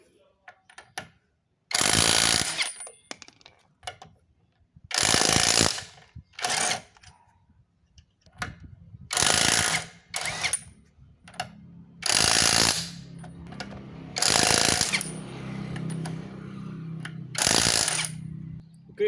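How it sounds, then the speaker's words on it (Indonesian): A power impact tool loosens the bolts on a car's left wheel in a series of about eight loud, rattling bursts, each lasting a second or so, separated by short quiet pauses in a workshop. "Kita akan membuka baut yang roda kiri ya."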